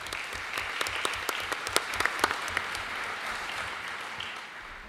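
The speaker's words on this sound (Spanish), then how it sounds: "Le recibimos con un fuerte aplauso" Audience applause welcoming a speaker to a round-table panel at a law, politics and defence conference, a steady wash of clapping from a seated crowd with a few sharper claps standing out, slowly fading toward the end.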